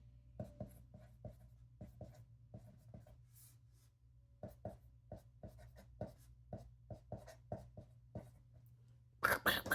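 A fountain pen nib scratching on paper while writing, making a quick rhythmic series of sharp scratches and taps at close range. The strokes come in clusters broken by short pauses, and a louder rustle comes at the end.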